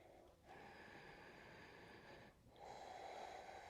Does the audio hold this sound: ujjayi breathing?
yes